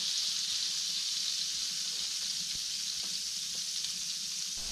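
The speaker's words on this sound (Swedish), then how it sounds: "Det är bara att bryna på så många man kan och sedan lägga dem i kastrullen" Oxtails browning in butter in a frying pan on a wood stove give a steady, even sizzle with faint scattered pops and stirring clicks, with no talking.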